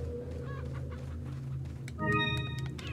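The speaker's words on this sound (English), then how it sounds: "It was a stupid chicken that was making the noise." Chicken clucking inside the Resident Evil 4 game, short repeated clucks over a steady low game ambience, growing louder and more tonal near the end.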